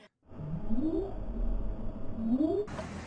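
Rising, moaning tonal calls of a whale captured underwater by an ocean glider listening for North Atlantic right whales, two swooping upsweeps over a low rumble of water noise, with a brief burst of hiss at the end.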